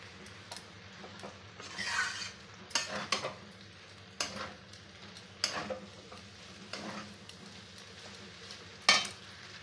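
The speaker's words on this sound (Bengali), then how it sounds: "ভালো করে আমি মিক্স করে নেবো আর ভেজে নেবো।" Chicken chow mein with soy sauce is stirred and fried in a pan at home, with a soft steady sizzle under repeated scraping and clinking strokes of a utensil against the pan, close up.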